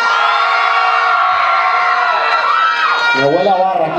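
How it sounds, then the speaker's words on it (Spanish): A crowd at a school fair contest cheers, whoops and shouts loudly and continuously for a contestant, a dense close roar of many voices with children's shrieks throughout. "Aplauso para la número 2."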